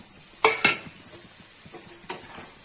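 Chunks of brinjal and potato drop into a pan of fried tomatoes for a Kashmiri-style dish, making a few distinct clanks and scrapes against the metal over a faint sizzle.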